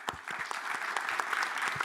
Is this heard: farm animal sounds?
no